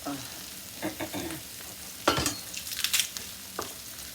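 Food frying in a pan on a high flame, with crisp sizzling and bursts of stirring and scraping, up close and fairly loud, with no talk.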